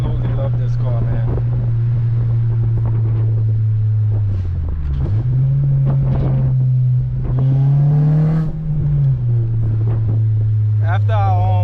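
Engine of an 8th-generation Honda Civic Si with VTEC, droning steadily while driving and rising and falling in pitch with the revs, with wind noise over it.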